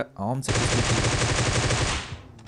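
Burst of rapid automatic gunfire in the PUBG Mobile battle royale game, a loud sustained rattle of about one and a half seconds, with a brief spoken word just before it.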